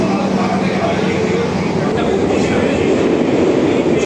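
Inside a moving Sealdah–Ranaghat AC local train, a loud steady rumble of wheels and carriage noise fills the whole stretch, with a faint rhythmic rattle and voices murmuring underneath.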